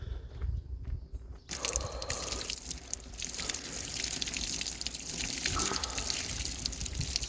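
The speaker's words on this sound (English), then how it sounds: "Looks like I'm gonna have some water spillage, probably because of the extra ice packs in here." Water sloshes and spills over the edge of a cold plunge tub packed with extra ice packs, a steady close splashing and trickling that starts abruptly and keeps going.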